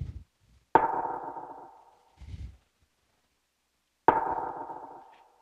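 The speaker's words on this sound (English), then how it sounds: "Also threw a rim shot in there" Two separate echoing rim shot drum hits from a beat sample, each a sharp crack trailing off into a long reverberant decay, with a softer low thump between them.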